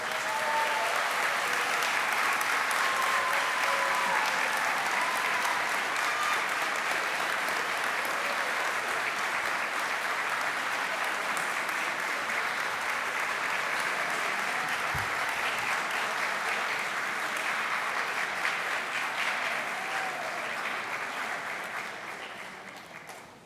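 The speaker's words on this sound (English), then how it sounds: "Give them a big round of applause." Sustained, thunderous applause from a large crowd at a college graduation convocation, dense and even for over twenty seconds before tapering off at the very end.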